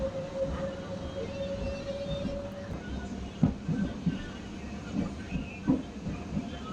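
On board a MEMU passenger train heading from Chikatiganapalem toward Vinukonda, a steady rumble carries a faint whine early on, then rhythmic clickety-clack wheel beats over rail joints punctuate the ride at close range.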